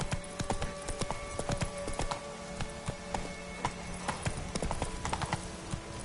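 Hooves of Roach, a horse in the video game The Witcher 3, clip-clopping steadily at a walking pace, close and continuous over a bed of ambient game music and background tones, with no speech.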